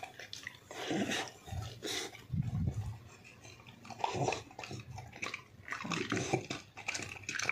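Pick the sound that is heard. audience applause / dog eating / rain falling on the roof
dog eating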